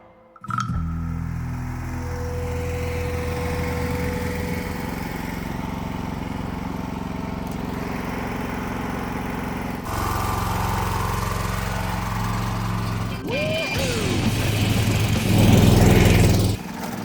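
A gasoline golf cart with a Predator 420 engine runs loudly and continuously, its tone shifting as it revs up near the end, with steady mechanical drone throughout.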